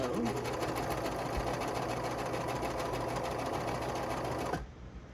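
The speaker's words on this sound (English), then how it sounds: "I'm going to be very gentle and try not to stretch as I sew." Sewing machine running steadily as it stitches slippery bamboo fabric for a maxi dress, a continuous close mechanical whir lasting about four and a half seconds before cutting off.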